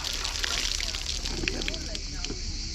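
Well water poured out and splashing onto the ground outdoors, a continuous sloshing trickle and spatter close by, with people talking over it.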